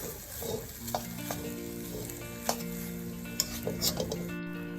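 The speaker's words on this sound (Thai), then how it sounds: "แล้วก็ผัดข้าวกับไข่เข้ากันนะครับ" Rice and egg stir-fried together in a hot pan for traffic-light fried rice, a steady close sizzle broken by sharp clinks and scrapes of a utensil against the pan, with no talking.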